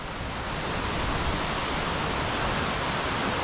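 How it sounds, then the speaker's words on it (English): A waterfall in Ferguson Canyon gives a steady, dense broadband rush, loud and unbroken throughout, with no voices over it. "You get these waterfall shots."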